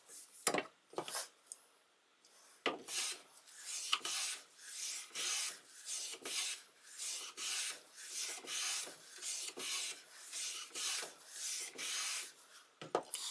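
A Lie-Nielsen No. 4 hand plane shaves wood in a steady series of close, airy rasping strokes, each a short swish followed by a brief pause, with no talking.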